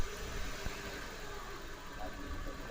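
A Suzuki Baleno with a fault where the rpm drops and the ECU has burned idles up close, a steady, even mechanical hum and rattle with a faint clack partway through.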